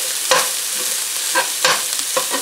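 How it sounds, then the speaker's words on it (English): Italian sausage browns in a frying pan with a continuous loud sizzle, while a utensil stirs and scrapes the pan in several distinct strokes up close. "we're going to get that in the frying pan and we're going to start browning that up"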